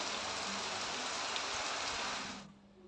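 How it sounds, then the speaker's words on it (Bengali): Steady light morning drizzle with wind hisses softly and evenly, then fades away near the end, with no voices. "সকালবেলা টিপ টিপ বৃষ্টি, এতটা ভালো লাগছে, আর হাওয়া দিচ্ছে, আর বৃষ্টি মোটামুটি ভালোই হচ্ছে"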